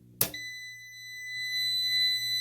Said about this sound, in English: All that beep beep noise